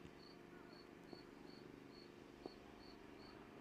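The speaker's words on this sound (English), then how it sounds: "I can hear crickets around." Crickets chirp steadily in a regular, even pulse at a cricket ground in Brescia, Italy, a continuous faint background trill with a couple of soft knocks.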